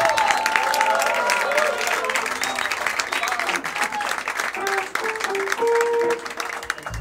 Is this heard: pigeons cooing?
no